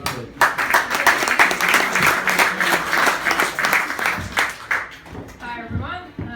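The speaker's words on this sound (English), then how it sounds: "Round of applause, please." Applause from a crowd at a Melbourne startup drinks and pitch night, loud sustained clapping for several seconds that fades as a voice begins speaking.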